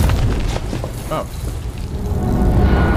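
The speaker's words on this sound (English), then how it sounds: "That's the explosion going off." An explosion going off in the video game Quantum Break, heard as a heavy, sustained low rumble that roars on for several seconds, loud and close, with a voice briefly audible over it.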